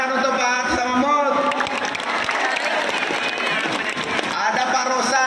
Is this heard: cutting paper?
no